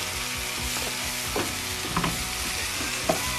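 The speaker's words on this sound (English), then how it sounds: "So now the rice just starting to catch the bottom of the pan. Give that a scrape" Rice catching and frying on the bottom of a pan in Deep South cooking, a steady close sizzle with a few scraping strokes of a utensil across the pan, no voices.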